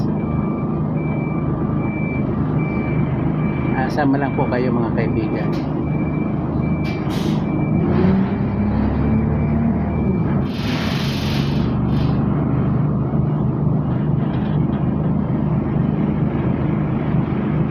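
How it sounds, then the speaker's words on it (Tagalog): A bus pulls away, its engine rumbling steadily with a hiss like an air brake and a thin electronic beep, while someone talks over the noise from inside the bus. "ayan paalis na po ang bus"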